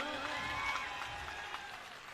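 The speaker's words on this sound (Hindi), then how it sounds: "भगवंत मान जी के लिए एक जबरदस्त तालियां" Brief, fairly faint crowd applause for Bhagwant Mann at an Aam Aadmi Party gathering during Kejriwal's Gujarat visit, a soft even patter of many hands.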